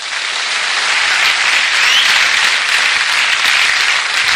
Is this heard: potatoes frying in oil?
no